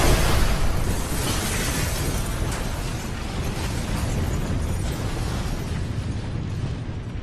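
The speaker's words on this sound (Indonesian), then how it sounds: "Nikolai juga meledakkan rumah sakit di Raccoon City yang di dalamnya juga ada Delta Team." A hospital in Raccoon City blows up in the video game Resident Evil: Operation Raccoon City. The blast roars loud and broadband, then sustains as a dense rumbling burn without voices.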